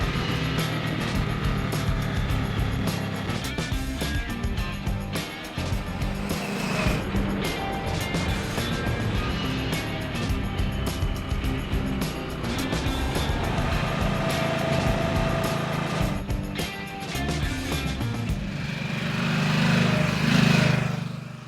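A 2022 Harley-Davidson Nightster 975 motorcycle riding at steady speed, its engine note loud and continuous throughout, with wind rush and a brief rise in revs near the end.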